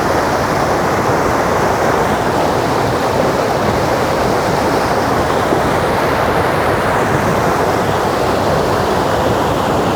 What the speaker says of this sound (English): this thick current flow of water